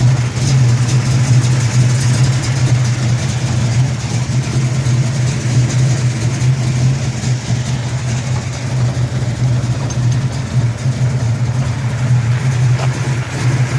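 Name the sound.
1971 Dodge Super Bee engine idling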